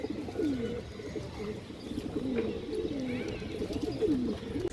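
Pigeons, including Muslodom breed pairs, coo in low repeated calls close by in a collection of kept birds, with a few faint chirps mixed in.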